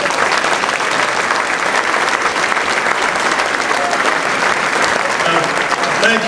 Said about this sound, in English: give a welcome round of applause for the head baseball coach at Indiana University, Coach Tracy Smith.